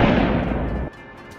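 Gunshots in the Granny and Slendrina horror video game, a loud dense burst of firing that drops off abruptly into a quiet low tail, no talking.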